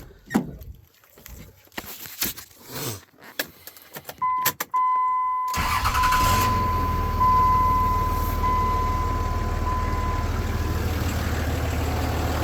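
Dodge Ram 2500 Cummins diesel truck just after a fuel lift pump replacement, with clicks and handling noises, then a tone as the key turns, then the engine cranking and catching into a loud, steady idle close by.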